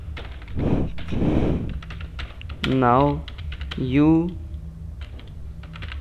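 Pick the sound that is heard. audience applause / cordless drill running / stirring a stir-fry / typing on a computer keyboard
typing on a computer keyboard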